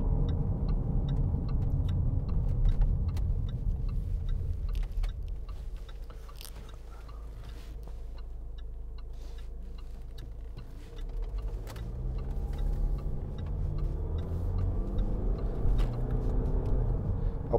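A 2016 Range Rover Evoque 2.0 TD4 SE Tech automatic 4WD drives along a road, its low steady cabin rumble carrying light ticks and clicks, with a brief engine swell near the end.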